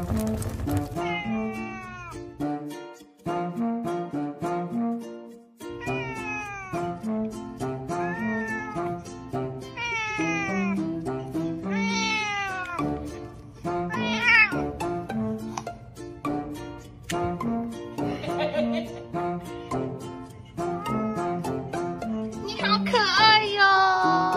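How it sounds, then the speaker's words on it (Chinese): A tabby cat meows over and over in drawn-out, sing-song cries that rise and bend in pitch, loud and close, with a few faint background sounds between calls. "小猫咪好厉害，会唱歌哦"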